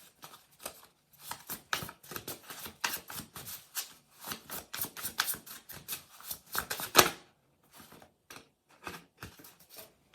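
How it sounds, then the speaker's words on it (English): A deck of tarot cards is handled and shuffled in a run of quick, crisp riffles and flicks close to the ear, then a pause and a few slower taps and slides of single cards. "We're going to just pull a couple of cards to clarify."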